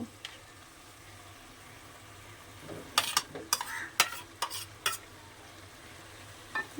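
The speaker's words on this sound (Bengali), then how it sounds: "দিয়ে আবারও আমি খুব ভালোভাবে কিন্তু কষিয়ে নিতে হবে আমাকে" Fried potatoes stirred into a simmering eel fish and cabbage curry in a pan, with a quiet low hiss and then a quick cluster of sharp spatula scrapes and clacks near the middle, ending with one late knock.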